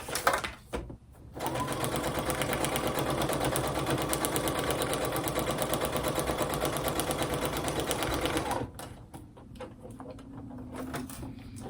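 A sewing machine stitches a seam on braid paper from a roll: one long, steady, close run of fast needle chatter, briefly preceded and followed by quieter handling sounds.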